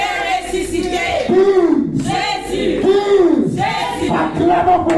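Church congregation shouting acclamations to God's glory, loud voices rising together in repeated waves of cheering and cries, close and enthusiastic.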